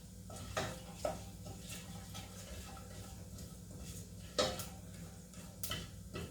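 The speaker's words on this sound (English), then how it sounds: "You don't have to keep stirring it like me, but sometimes it's good to mix them around." Seeds browning in a hot pan for kitchari, stirred with a utensil that scrapes and taps the metal in scattered clicks over a faint steady background sizzle, close and fairly quiet.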